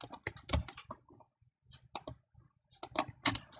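Someone types code for a Python program on a computer keyboard, with quick clustered bursts of close key clicks separated by brief pauses.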